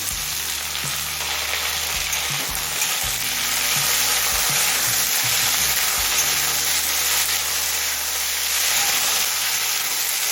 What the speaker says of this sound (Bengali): টমেটো দিয়ে মিনিট দুটি নাড়াচাড়া করে নিয়েছি